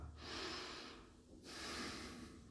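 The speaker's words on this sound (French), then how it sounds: "Je vous montre une respiration normale. Voilà ce que ça fait, donc par le nez" Calm, normal breathing through the nose, close up: a slow inhale and exhale followed by a second airy breath, each a soft hiss lasting about a second.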